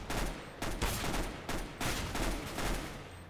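Gunfire in Counter-Strike: Global Offensive, several rapid bursts of shots in quick succession, each cluster sharp and dense with brief gaps between them, moderately loud and without talk.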